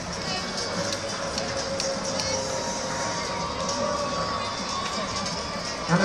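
A large outdoor crowd outside the Mini plant in Oxford claps and cheers for the Olympic torch, a steady dense roar of hands and voices with no clear break.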